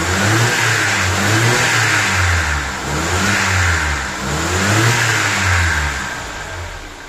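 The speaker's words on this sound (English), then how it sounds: "It revs pretty well now that it has warmed up and it has full power." A warmed-up, carbureted Mercedes-Benz M102 engine revs repeatedly, rising and falling in steady surges, loud and close, with no voices.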